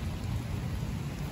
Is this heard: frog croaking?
no